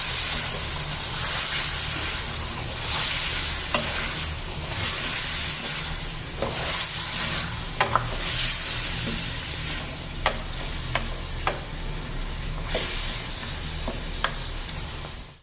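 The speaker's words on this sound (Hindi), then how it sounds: "अदरक लहसुन डाल देंगे, अब इसको फिर से थोड़ा सा भून लेंगे" Ginger garlic paste sizzles and fries in a pan for chicken karahi, a steady close hiss with scattered sharp pops and occasional stirring scrapes, no talking.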